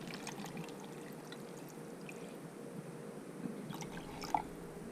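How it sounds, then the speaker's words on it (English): Water poured into freezer bags holding cleaned panfish, a steady, soft pouring wash lasting throughout with a faint drip or splash near the end. "Then she'll put water in them till they cover"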